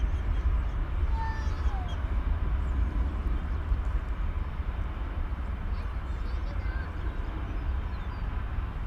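Boeing 767 jet taking off at DFW Airport, heading to Louisville: a steady, distant broadband roar of engine and airflow that holds evenly throughout, with no voices over it.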